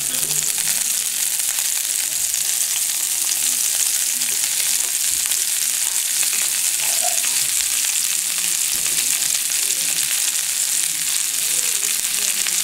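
Carrots and red, green and yellow peppers sizzle in a pan for a sweet and sour shrimp stir fry, giving a steady, loud, hissing fry that holds without pause, close up and uninterrupted.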